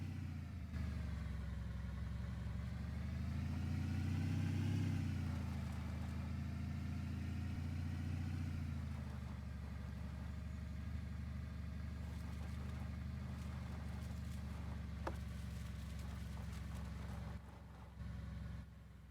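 A vehicle engine drones steadily while driving in Lumberjack Simulator, a mid-pitched motor hum that swells and eases, close and continuous, no talk.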